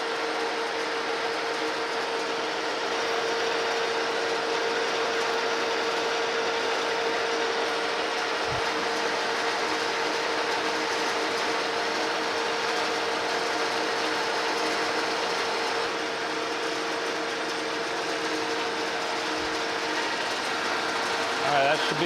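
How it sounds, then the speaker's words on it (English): A metal lathe taking a coarse cut on a new shaft for a restored metal planer, a steady continuous mechanical whir with a faint tonal whine held throughout. "Taking a rather coarse cut right now,"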